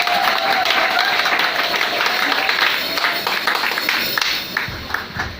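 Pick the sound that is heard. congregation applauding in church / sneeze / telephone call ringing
congregation applauding in church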